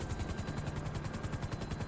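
A helicopter in GTA V thuds with fast, even rotor beats, loud and close, a steady rhythmic chop with no talking.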